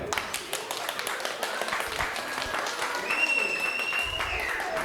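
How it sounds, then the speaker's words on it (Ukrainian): Applause at a wedding ceremony, moderately loud and steady, from a small crowd clapping for several seconds, with voices and a whistle-like tone mixed in. "Оплески."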